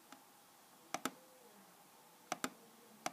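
Calculator buttons pressed while a function is typed in, heard as sharp, faint plastic clicks in quick pairs with pauses between, alone in a quiet room.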